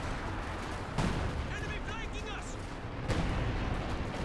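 Artillery shells from a barrage in the strategy game Company of Heroes 2 land as dull booming impacts amid continuous battle noise, two heavier thuds standing out a couple of seconds apart under a commentator's voice.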